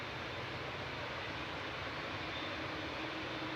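SAS airliner coming in to land at Manchester Airport, a faint, steady broadband jet roar that holds evenly throughout with no voices.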